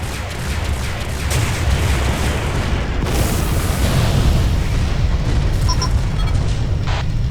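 An Azotl ship explodes in the space combat game Freespace 2, a loud, sustained rumbling blast that roars continuously with crackling debris and no voices.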